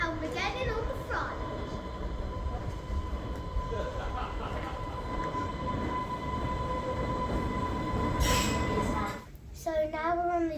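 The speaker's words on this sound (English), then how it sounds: "So now we're on the train, Dell's train" Island Line train on the Isle of Wight riding along the rails, a continuous rumbling roll with steady tonal hum from inside the carriage, a brief squeal near the end, with a voice faintly audible.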